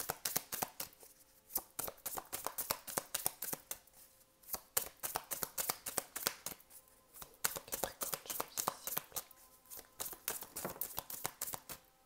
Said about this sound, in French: Donc une carte du tarot pour le pro, s'il vous plaît,